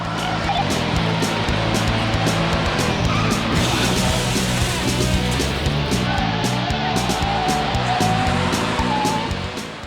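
Police academy driving training, with cars in a pursuit exercise: a continuous loud engine roar and tire noise throughout, close and busy, with no clear separate skid bursts.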